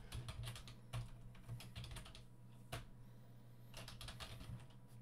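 Fingers tap rapidly on a computer keyboard, typing a game name in quick bursts of close, crisp clicks with a brief pause midway, over a low electrical hum.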